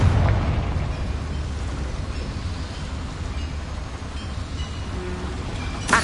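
A fire spell blast in Hogwarts Legacy bursts loud and close, its boom decaying into a sustained rumbling roar that fills the rest of the moment, with a sharp crack near the end.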